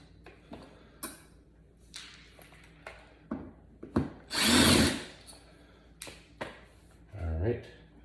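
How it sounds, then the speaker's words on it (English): A power drill removes the screws holding an electrical outlet in its wall box, with a loud whirring burst midway and a shorter rising whine near the end, amid handling noises and some talk. "you're going to want to take off the screws that hold the outlet into the box"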